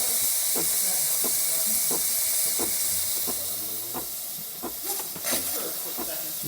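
Steady, strong hissing from a DeLonghi espresso machine's steam function after a full tune-up runs throughout, with faint rhythmic clicks and pulses beneath it.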